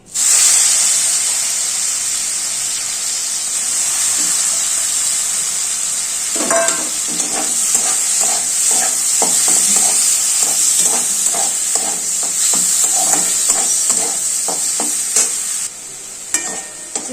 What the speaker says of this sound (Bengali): এবার তেলটা গরম হয়ে গেছে চিংড়ি মাছটা ভেজে নেবো